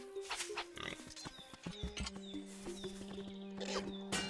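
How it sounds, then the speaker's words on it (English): A pig in Link's Awakening gives several short, nasal oinks and squeals in quick bursts, close and clear, alongside bright chiming game sound effects. "Oink, oink, oink."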